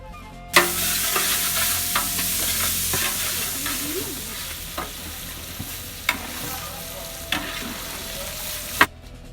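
Lamb tail fat and meat sizzle and crackle steadily in a pot for kavurma, with occasional sharper pops and scrapes of stirring, close up and with no talking.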